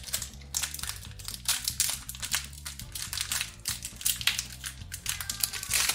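A Battle for Zendikar booster pack wrapper being torn open and handled, giving close, continuous crinkling and crackling with brief tearing bursts and no talk.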